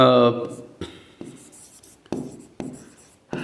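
Chalk or marker tapping and scraping on a board as a teacher writes during an English grammar lesson, in a series of short, distinct strokes with pauses between them, and a voice speaking briefly at the start.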